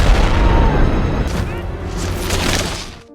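German fighter planes explode in the air during a war film, a loud, deep rumbling boom that rolls on and slowly fades, followed by crackling debris.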